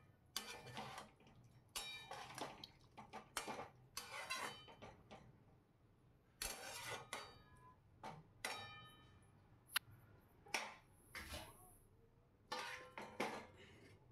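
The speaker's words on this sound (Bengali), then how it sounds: "সুন্দর করে খুন্তি দিয়ে ওপর নিচ করে নেব।" A spatula scrapes and knocks repeatedly against a pan while raw jackfruit curry with a little hot water is turned over, irregular close metallic clatters and scrapes with short pauses between.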